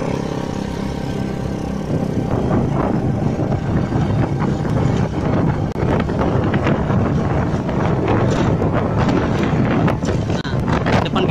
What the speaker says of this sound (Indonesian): suasananya sudah mulai maghrib dan sedikit angin kencang ya